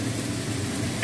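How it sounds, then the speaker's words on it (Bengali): Ridge gourd fries in a pan with other vegetables for a vegetarian curry, a continuous close sizzle with a brief stirring scrape right at the end, no talk. "ঝিঙেগুলো দিয়ে আর একটু ভেজে নেব"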